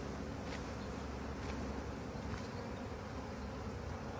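Honey bees buzzing during a spring hive inspection, a faint continuous drone of many insects with no talk.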